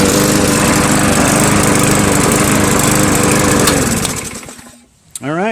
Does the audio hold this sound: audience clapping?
no